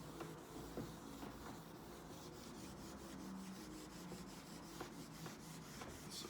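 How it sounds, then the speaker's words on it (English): Eraser scrubbing chalk or marker off a classroom board, a steady rough rubbing texture with repeated short strokes, continuous and fairly quiet throughout. "I'm going to erase this now."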